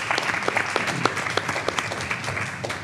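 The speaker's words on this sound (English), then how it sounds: "Could you please give him a round of applause?" A board of education meeting audience applauds to welcome a new board member, a moderate crowd of hands clapping with distinct individual claps audible through the steady patter.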